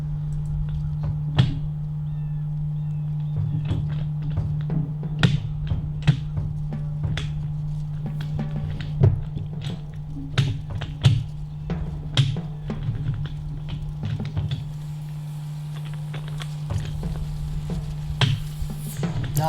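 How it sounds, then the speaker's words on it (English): A deer-hunting rattle bag is knocked against a tree in the woods with one hand, giving irregular dry clacks and taps that are moderately close, over a steady low hum. "Now that noise you're hearing in the background is me rattling up against the tree with one hand."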